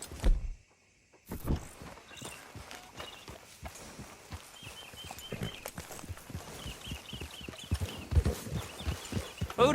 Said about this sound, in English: Grab your horse and let's go.